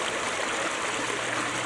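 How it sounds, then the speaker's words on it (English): A creek swollen after a flood rushes and gurgles in a constant, full wash of water, close by and uninterrupted, without any talking. "Well, here we are on the creek."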